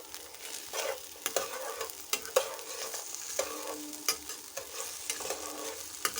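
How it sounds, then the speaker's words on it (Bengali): Salted food fries in a pan for a Bengali egg dish, a soft continuous sizzle under irregular clinks and scrapes of a spatula stirring, close and fairly quiet, with no one talking. "এবার ভালো করে নাড়াচাড়া করে নেবো"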